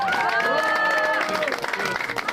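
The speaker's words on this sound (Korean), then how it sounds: "박수!" A crowd at a People Power Party political event claps and cheers, a loud continuous mix of applause and raised voices that begins to thin out toward the end.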